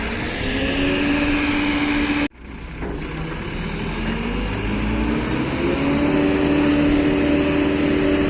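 A crane's heavy engine working to lift a twenty-ton vehicle, a loud steady diesel drone with rising and falling whine that cuts out abruptly for a moment before resuming and building again.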